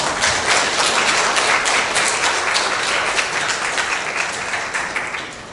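A church congregation breaks into loud, full applause during a Sunday service, many hands clapping in a dense wash that holds steady and then begins to fade toward the end.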